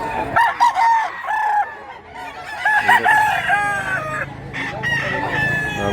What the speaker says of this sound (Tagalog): Guwang ng manok ka mga idol.